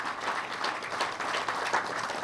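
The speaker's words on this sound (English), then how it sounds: "another round of applause to my very," Applause at an outdoor boardwalk dedication ceremony, a steady, fairly soft patter of many hands clapping, somewhat distant and even throughout.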